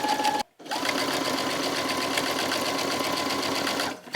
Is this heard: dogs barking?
no